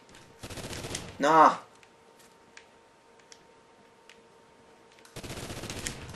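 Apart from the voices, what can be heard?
unsilenced gunshots in a PS4 shooter video game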